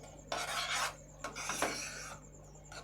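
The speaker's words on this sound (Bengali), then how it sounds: "এবার ভালো করে নাড়াচাড়া করে একটু শুকনো শুকনো করে নেব" A spoon scrapes and rubs through a thickening milk malai sweet mixture in a pan, two or three rasping stirring strokes close up with a low steady hum behind and no talking.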